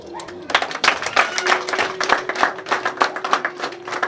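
An audience at a family cow gift ceremony breaks into brisk, steady hand clapping after a short pause. The claps come close and rhythmic, with voices mixed in.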